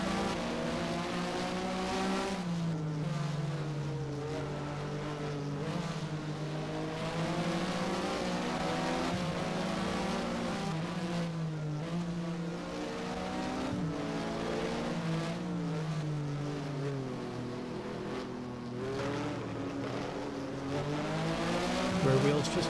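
Porsche Supercup race car engine from the Race07 racing game at Catalunya, with the front brakes locking up, drones loud and continuous for the whole stretch, its pitch rising and falling through gear changes with occasional tyre squeal.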